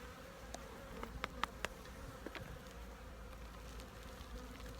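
Honeybees buzz around a hive in October during a strip removal, a faint, continuous hum with a few individual bees flying close by, without talk.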